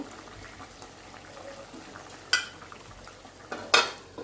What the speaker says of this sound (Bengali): জলটা দেখুন এবার ফুটে উঠেছে। মাছগুলো দিয়ে দিচ্ছি